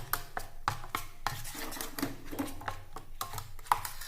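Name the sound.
oil being spread on a pan for dosa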